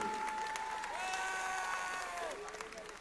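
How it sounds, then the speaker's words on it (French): An audience at a Japan Expo cosplay show applauds a performer, a continuous wash of clapping from a large crowd that holds steady and slowly fades, with an announcer's voice and music tones running over it. "On l'applaudit bien fort, le Vogue Mary."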